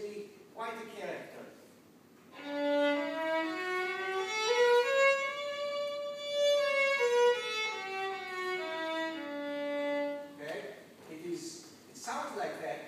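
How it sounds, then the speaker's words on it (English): A clear instrument plays a scale up and then back down, evenly paced single notes, framed by brief talk before and after. "I'm going to play for you a major scale."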